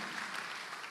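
A church congregation applauds, a dense, even wash of clapping from many hands that fills the space at moderate volume for about a second.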